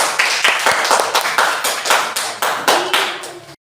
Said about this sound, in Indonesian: kita sambut Nabi Elia dengan tepuk tangan